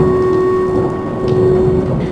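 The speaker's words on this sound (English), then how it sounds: "heavy rains come to India" Heavy monsoon rain pours in India with a steady, dense hiss and a low rolling rumble of thunder beneath; continuous and fairly loud, with no voices.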